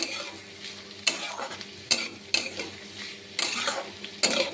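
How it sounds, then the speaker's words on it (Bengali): Black cumin seeds frying over a low flame in a pan with onion, garlic and green chilli, under a steady sizzle, with several sharp scrapes of a spoon stirring against the pan at close range. "কালো জিরেটাকে একটু কিছুক্ষণ ভেজে নেব।"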